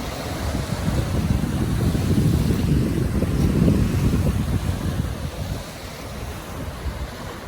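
Waves wash steadily over a rocky beach near Dana Point, with a continuous broad surf roar and some wind noise on the microphone, and no voices.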